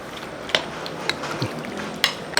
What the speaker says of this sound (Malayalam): ആ കോൺഫ്ലവർ ഇട്ടതിന് ശേഷം ഒന്ന് ഇളക്കി കൊടുക്കുക